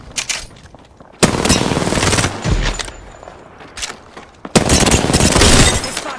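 Gunfire in the Apex Legends video game: loud bursts of rapid automatic shots, one burst starting near the second mark and another near the end, with a quieter stretch between them.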